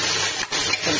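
Mutton hits hot oil in a pressure cooker and makes a loud, steady sizzling hiss that dips briefly before surging back, close by.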